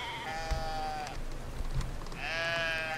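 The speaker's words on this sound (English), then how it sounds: "I have sheep here." Sheep bleat in the video game Brothers: A Tale of Two Sons, two long wavering calls with a gap between them, clear and fairly close over a soft ambient background.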